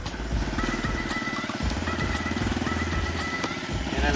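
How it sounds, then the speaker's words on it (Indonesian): A motorcycle with smooth, worn tyres labours along an extreme offroad track to a rural school, its engine a close, steady, continuous rumble with slight throttle variation throughout. "Sudah sedang menaiki motor."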